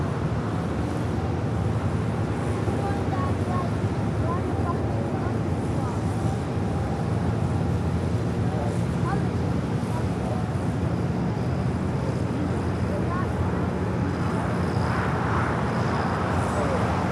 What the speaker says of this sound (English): Stars and Stripes 7710 Dreamliner now crossing over.